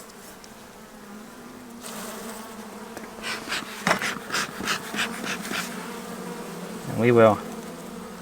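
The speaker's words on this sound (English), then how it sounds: "Good bee population in here." Honey bees buzz in and around an open hive while pollen patties are being placed, a steady close drone with a louder pass near the end as a bee flies by the microphone, under brief talk.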